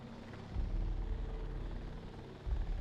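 A helicopter idling in a Jurassic dinosaur park game, a steady low rotor drone that holds at moderate level throughout the short stretch, with no talk over it.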